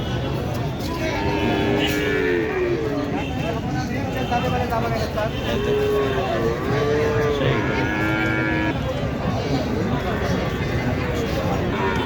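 Several cattle, including Holstein Friesians, low and moo across a busy cattle market at Baneshwar, Puthia, Rajshahi, calls rising over a constant crowd murmur and people talking nearby.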